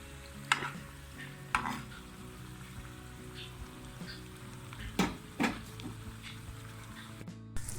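Potato samosa pinwheels fry in oil with a low, steady sizzle, broken by a few sharp clatters and spatters from the pan, no talk.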